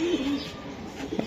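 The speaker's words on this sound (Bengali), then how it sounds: "আপনারা 2টা কবুতর আমি দেখাচ্ছি ভাই" Racing pigeons give a couple of soft, low coos close by, brief and throaty against a faint background.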